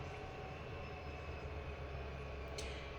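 A train in the Trainz 2022 railway simulator gives a faint, steady low engine rumble that runs unbroken and never rises in volume.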